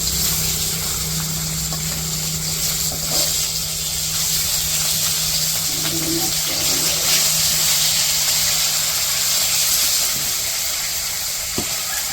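Fish frying in a wok-style pan in a village kitchen gives a steady sizzling hiss, with a low hum and a few faint clinks and scrapes as the pieces are lifted out.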